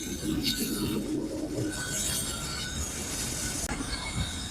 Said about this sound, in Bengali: ইতিমধ্যে প্ল্যাটফর্মে আসতেছে সিরাজগঞ্জ এক্সপ্রেস।